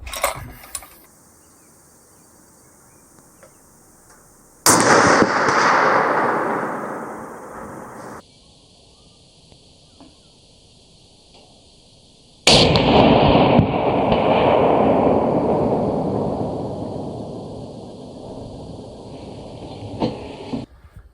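Two loud shots from a Tikka .30-06 rifle, several seconds apart, each followed by a long rolling echo that fades into quiet.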